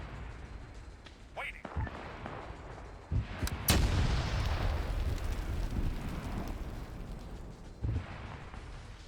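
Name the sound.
explosion in a WW2 Stargate mission video game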